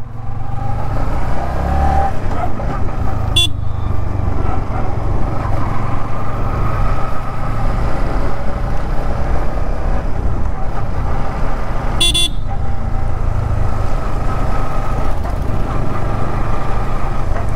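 A motorbike riding out along a scenic country road, its engine a steady low drone with passing traffic noise and two brief sharp horn toots.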